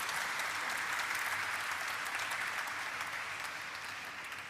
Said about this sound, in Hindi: एक बार जोरदार तालियां पूरे वीपीआरपीएल परिवार के लिए